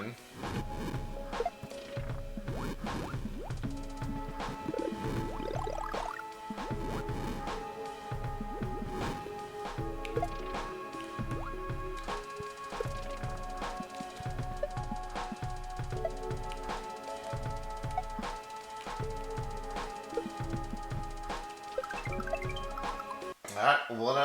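Game music and sound effects from a water level in the video game Super Mario World, a steady tune with repeating bouncy notes and melodic lines and occasional effect blips, continuous and fairly loud throughout.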